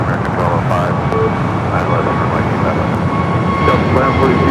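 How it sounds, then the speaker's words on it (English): Boeing 747 passenger jet at Los Angeles International Airport, a loud, continuous engine roar with broadband rumble, steady throughout and close by. "You're looking at the passenger 747 Intercontinental."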